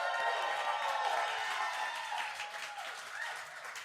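A packed live audience at Hard Rock Cafe Philly claps and cheers in a dense, continuous wash of applause that fills the room throughout, without any clear talk.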